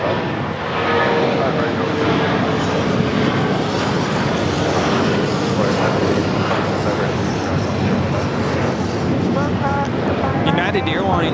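An Air China cargo Boeing 747-400 takes off at Los Angeles LAX, producing a continuous, heavy jet rumble and roar throughout, with people talking over it.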